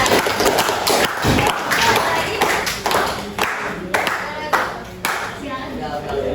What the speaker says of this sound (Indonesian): Tepuk tangan dong buat kita.